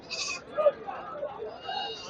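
Rams and other animals at the Puthiyamputhur goat and sheep market in Thoothukudi district, a few short bleats rising over a busy crowd where someone talks close by throughout.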